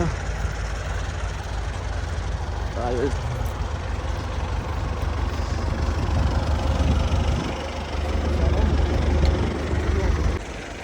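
A T-150 crawler tractor rumbles steadily while harrowing a field, its heavy low engine drone continuous and close, with a person talking over it.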